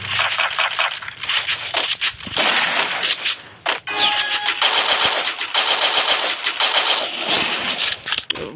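UMP submachine gun fire in the Free Fire mobile game, loud rapid bursts with short gaps between them, plus clinking and crunching effects mixed in, close and dense throughout.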